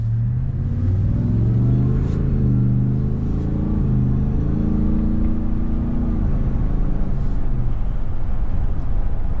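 A 775-horsepower Ford Shelby truck on 22-inch wheels drives along with a loud, steady engine rumble that swells and eases as it shifts, heard up close from inside the cab with road roar underneath.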